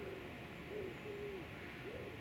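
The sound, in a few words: pigeons cooing on a quiet evening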